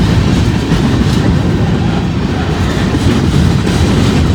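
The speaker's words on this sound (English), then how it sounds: "That's only the second time I've seen a train come north up to Newcastle here." A train rolls past on railroad tracks heading north toward Newcastle, a loud, steady rumble with rhythmic clickety-clack of wheels over rail joints, close by and continuous without talk.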